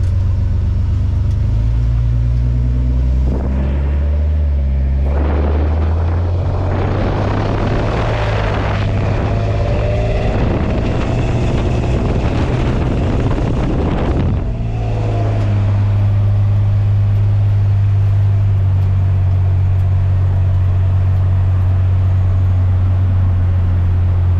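A custom 1938 International rat rod truck running: a loud, steady low engine drone close by, rising in a revving surge for several seconds before settling back to a rough, even idle, with no talking.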